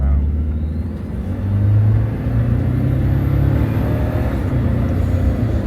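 A 2024 Toyota Land Cruiser hybrid driving, its engine a low, smooth rumble with a slight swell as it pulls, heard from inside the cabin, steady and fairly loud, with people chatting over it.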